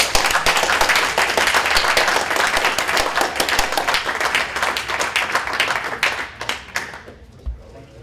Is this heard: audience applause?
yes